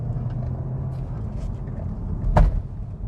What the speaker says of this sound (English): Bit of a bump from the suspension there.